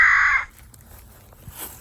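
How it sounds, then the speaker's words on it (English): A crow gives a loud, close call in the opening half second while out hunting, then the sound drops to faint outdoor background with a few small knocks. "I got 2 crows out of that. Caw-caw"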